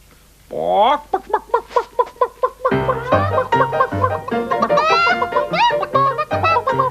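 A voice imitates a chicken with a quick run of short, rhythmic clucks, then carries on in a higher squawking, clucking babble over low background music.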